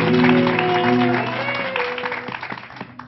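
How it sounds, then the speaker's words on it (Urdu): An audience at a television show claps for seated students, a burst of applause that starts full and thins into scattered claps, with a voice audible over it at the start. "ان کے لیے ایک دفعہ تالیاں بجا دیں"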